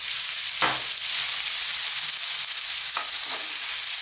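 Onions with garlic and ginger paste frying in oil over above-medium heat, a steady close hiss and sizzle with a couple of brief stirring scrapes, no voices.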